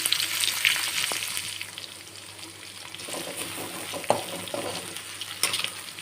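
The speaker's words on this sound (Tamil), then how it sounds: "2 காஞ்ச மிளகா, அப்புறம் 2 தக்காளி, இதெல்லாம் நல்லா ஃப்ரை பண்ணி எடுத்துக்கலாம்." Green and dried chillies with tomatoes frying in a pan for a potato gravy, a steady close sizzle with occasional scraping stirs and soft pops, no talk.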